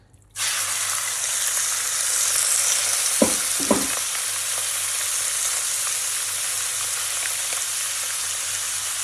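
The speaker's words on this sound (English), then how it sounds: "we need to fry the meat very quickly to like maybe level 7" Beef for stroganoff sizzles in a hot pan, a loud steady frying hiss that holds for the whole stretch, with a couple of brief clatters of stirring partway through and no voices.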